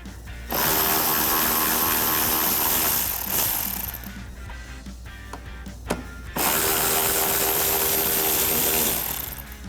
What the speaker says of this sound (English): we have these 2 7mm screws here that hold in our lower trim. So I'll take them off the 7mm socket.